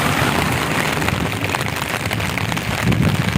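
Heavy rain pours down steadily on the streets near Haripur bridge, a dense, loud, unbroken roar heard up close from under an umbrella, with no voices.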